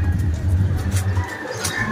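Racing pigeons returning from a 140 km training race coo softly nearby, low and brief, against faint background noise and a distant vehicle.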